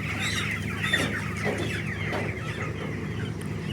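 Small broiler chickens of about 1.7 kilograms clucking in a crowded poultry farm, a steady murmur of overlapping clucks and soft calls from many birds close by.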